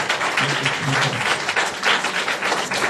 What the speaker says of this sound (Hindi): जिनको वचन समझ में आया जोरदार ताली प्रभु यीशु मसीह के लिए।